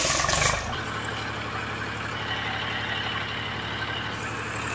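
A heavy diesel Eicher 380 tractor engine idles steadily and close by, a low rumbling drone that holds through the clip after a brief louder burst at the start.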